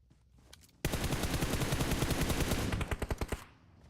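Gunfire during a competitive PUBG Mobile match: a sudden loud sustained automatic burst of rapid evenly spaced shots that thins into a few separate final rounds before fading back to quiet background.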